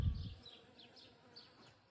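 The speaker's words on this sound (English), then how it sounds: "The bees are as excited as I am." Bees hum faintly around a flowering pohutukawa tree, a few buzzing passes rising and fading over quiet outdoor background after a brief low thump.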